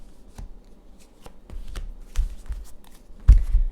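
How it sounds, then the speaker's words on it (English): Tarot cards shuffled and laid out on a table, a run of crisp close riffles, taps and soft slaps, building to a firmer thump near the end, with no talking. "All right, I'm going to lay the cards out now."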